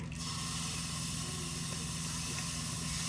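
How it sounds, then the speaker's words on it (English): Meat sizzling in a pan on a stove at medium heat, a steady, close, continuous hiss with a faint low hum underneath, holding level throughout without speech. "Just put your stove on medium heat, and then you pop in your meat in here."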